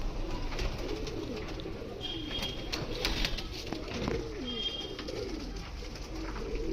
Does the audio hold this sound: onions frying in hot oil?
no